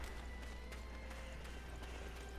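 Horse hooves clip-clopping in the video game Dynasty Warriors 9, a faint, even run of soft hoof beats under a constant low hum.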